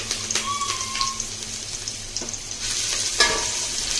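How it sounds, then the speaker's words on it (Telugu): Black pepper powder sizzles briefly in hot oil as a tempering for pepper rasam, a soft, close frying hiss broken by a few sharp clicks of a spoon against the pan. "ఇప్పుడైతే రసానికి పోపు పెడుతున్నాను"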